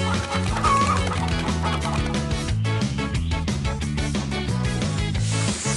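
Cartoon chickens cluck in the Paw Patrol Rescue World video game, a few short clucks mixed into loud, steady game music that fills the whole stretch.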